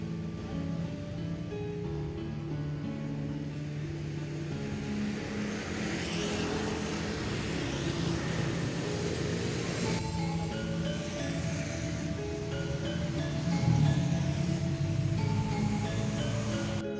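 Busy town-centre traffic flows past in Tulungagung beside the Ngrowo river. Cars and motorbikes hum and swell steadily as vehicles pass one after another, at a moderate distance, with no voices.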